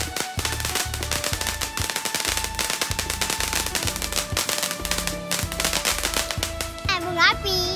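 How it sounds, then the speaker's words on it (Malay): Rapid crackling bursts of Hari Raya eve fireworks pop in dense volleys over a tonal musical background, with a whistling rocket-like sweep near the end. "Bunga api."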